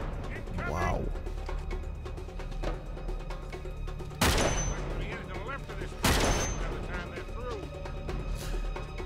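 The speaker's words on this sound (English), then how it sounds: "Not while they're firing at us" Enemy fire in Uncharted 3 cracks out as two sharp, loud gunshots a couple of seconds apart, over constant game noise and a steady background bed.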